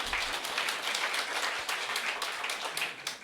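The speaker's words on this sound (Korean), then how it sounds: "박수 쳐주시고요" Seated attendees at a Korean business seminar clap together for an invited lecturer, producing a dense, even patter of hands with a few sharper individual claps standing out, moderately loud and uninterrupted by speech.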